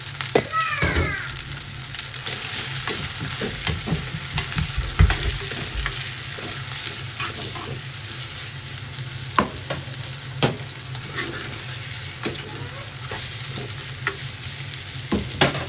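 Mutton liver sizzles steadily in a pan with sautéed onions and ginger-garlic paste, with scraping stirs and spatula clicks near the start and sharp taps scattered throughout.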